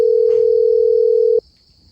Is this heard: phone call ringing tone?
yes